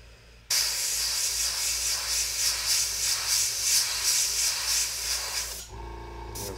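An airbrush sprays paint through a rivet stencil in one steady, close hiss lasting about five seconds, starting and stopping abruptly.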